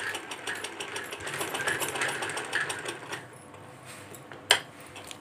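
A domestic sewing machine runs in a steady fast whirring stitch while sewing a garment neckline, the motor loud and continuous for about three seconds, then slowing to quieter intermittent stitching with a sharp click near the end.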